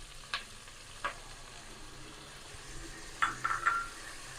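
Vegetables with soy sauce stirred in a frying pan over medium flame, a soft steady sizzle with a few spoon knocks against the pan and a brief cluster of clinks near the end.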